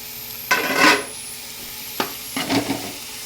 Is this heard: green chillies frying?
yes